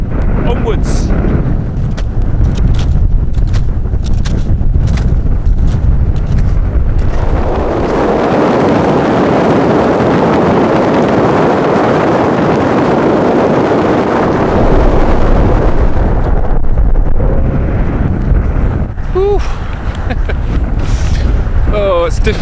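Strong wind roars across the snowy Lomond Hills, loud and buffeting the microphone in a long sustained gust, with rustling and gear noise before and after.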